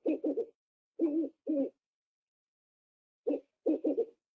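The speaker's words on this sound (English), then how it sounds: "The owl says. Hoot" Owl hooting from a children's animal-sounds game: short hollow hoots in quick pairs and triplets, separated by silence, clean and close.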